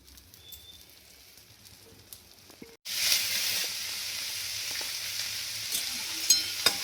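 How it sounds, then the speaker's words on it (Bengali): Small egg omelettes frying in a wok start with a sudden loud hiss as the egg hits the hot oil, which settles into a steady close sizzle with occasional faint scrapes. "ছোট ছোট করে ডিমের অমলেট গুলো করে নিচ্ছি।"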